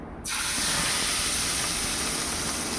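Hot tadka tempering poured into a bagara baingan gravy curry, a loud sudden sizzle that bursts on and holds as a steady, close hiss.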